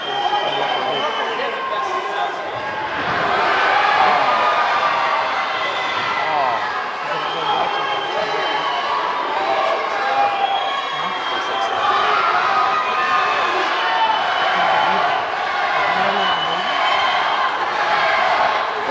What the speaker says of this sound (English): The crowd is chanting Wilfredo's name